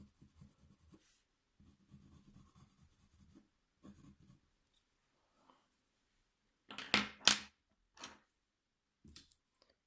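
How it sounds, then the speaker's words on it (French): A pencil drawing the body of a candle on paper in a colouring exercise, giving soft scratchy strokes in short bursts with pauses, then a louder, brisker run of strokes near the end. "je vais reprendre le même crayon et je vais dessiner tout le corps comme ça"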